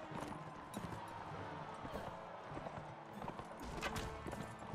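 Horse hooves clip-clopping in a steady galloping rhythm in the Mount and Blade Warband video game, moderately loud amid busy game noise and brief voices.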